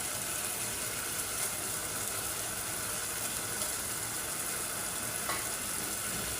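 Chicken liver sizzles and fries in a hot pan, a steady, fairly faint crackling hiss that runs evenly throughout with no talking.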